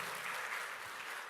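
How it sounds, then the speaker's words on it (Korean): A church congregation applauding together, a dense, even wash of clapping that sounds fairly distant and soft throughout. "박수로 하나님께 영광 올립니다"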